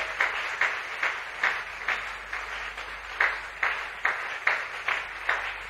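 A church congregation loudly acclaiming the Lord, with a room full of people clapping together in a steady, rhythmic beat of roughly two claps per second, sustained and fairly near.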